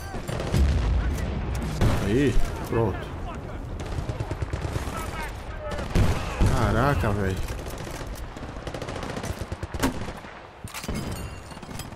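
Rapid automatic gunfire and shots in Battlefield Bad Company 2's campaign, with loud bursts throughout and someone talking over them.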